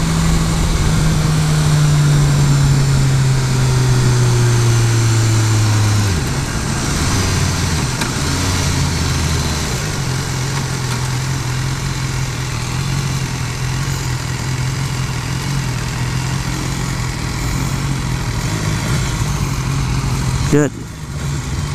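A 2015 BMW S1000R motorcycle engine running steadily nearby with a low droning hum, its pitch dropping early on and then holding at idle, with a sharp click near the end and someone talking over it.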